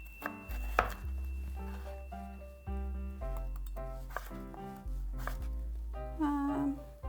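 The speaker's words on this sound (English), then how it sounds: "I'm just going to slice it. You can cut it however you want to cut it." A knife slices shiitake mushroom and radish on a cutting board, a run of crisp, evenly repeated chopping strokes close up, with soft music playing underneath.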